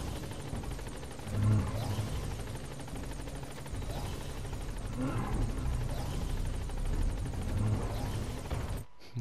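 A helicopter in the video game Metal Gear Solid V: The Phantom Pain makes a steady, moderately distant rotor drone throughout, with people talking intermittently over it.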